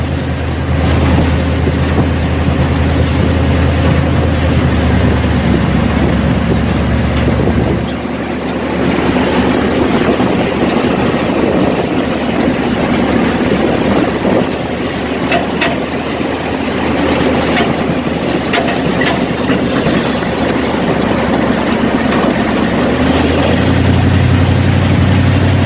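A wrecked 1967 Chevelle engine idles steadily and loudly for a long stretch, a continuous rumbling drone with a brief dip in tone partway through and no talking.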